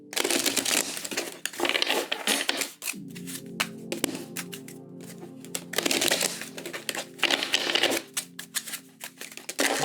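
Tarot cards are shuffled close by in bursts of quick riffling, crackling flutters. Brief quieter pauses fall between the bursts.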